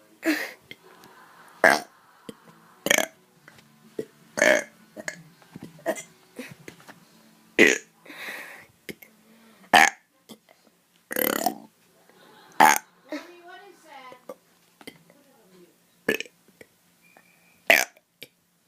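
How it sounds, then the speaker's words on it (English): A person burps loudly and repeatedly in a long series of separate belches with short pauses between them, close to the listener, with a few softer throat and breathy sounds in the gaps. "I'm burping."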